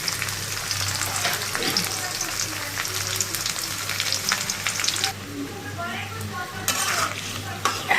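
Onion and green chili frying in a pan for a small tengra fish curry, a steady close sizzle with stirring scrapes throughout, loud and continuous without talk.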